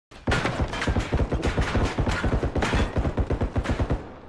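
Rapid automatic gunfire from a realistic shooter video game, in loud close bursts of evenly spaced shots that run almost continuously, with no voices.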